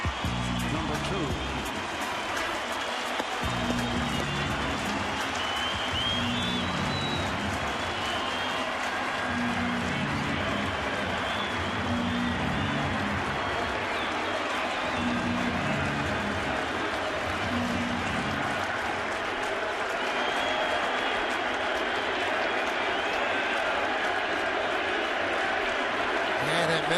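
A home crowd at the 2014 New York Yankees home opener applauds and rises for Derek Jeter's first at-bat of the season, a steady roar of clapping and cheering that fills the stadium while a commentator talks over it.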